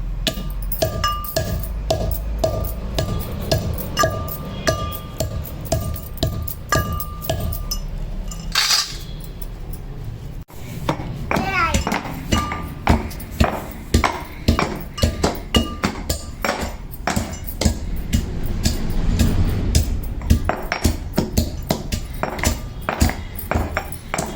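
Dried turmeric roots are broken into pieces with repeated sharp cracking and pounding hits, near and fairly loud, in an uneven rhythm with a brief pause partway through.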